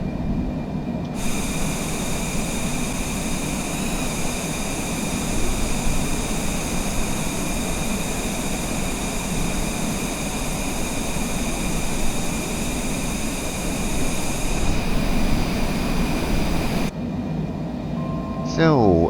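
Cessna Citation C700 jet taking off from Munich in Microsoft Flight Simulator: a loud, continuous engine roar with a steady whine that runs the whole time and drops off briefly near the end.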